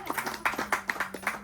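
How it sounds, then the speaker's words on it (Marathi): Several pairs of hands clapping along with an elderly grandmother's birthday wishes, a quick, slightly uneven run of about a dozen claps close by, with a faint low hum underneath. "टाळ्या वाजवा."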